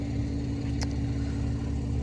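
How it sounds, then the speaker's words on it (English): Mercedes V6 twin-turbo car on its stock exhaust, a steady low engine drone rumbling continuously from inside the cabin while driving, with a brief faint click partway through. "for again just a V6 twin turbo, even on a stock exhaust, that car sounds pretty nice."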